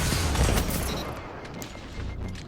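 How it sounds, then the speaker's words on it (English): A grenade goes off in a video game shooter, a loud burst of explosion that rumbles and decays over about a second, followed by scattered crackling gunfire-like pops at a lower level. "so I'll put that grenade there just to block him in"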